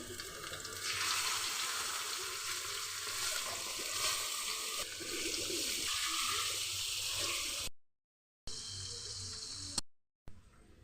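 Pork with garlic and onion sizzles in a pan for paksiw na lechon, a dense, bright hiss that runs loud and steady for several seconds before cutting out abruptly in two short gaps.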